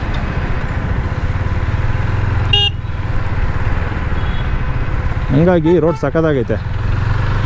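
A KTM Duke 390 motorcycle rides along a road, its engine droning steadily nearby, with a brief horn toot and someone talking over it.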